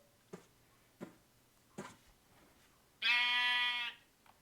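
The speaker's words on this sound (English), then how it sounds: "You got different color sheep." A single loud, drawn-out sheep bleat from the blocky game Minecraft rings out for about a second, preceded by three soft, evenly spaced clicks and followed by a faint tap.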